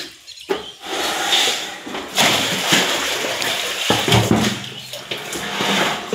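Soaked clothes are washed by hand in a bucket of water, with loud, close splashing and sloshing that continues throughout in uneven surges.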